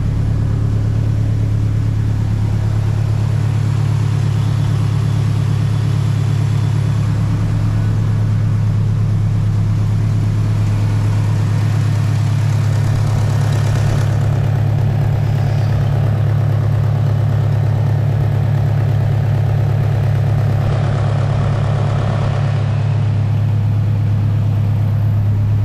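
A truck engine idling steadily with a deep, constant low rumble that lasts throughout, close and alone with no voices.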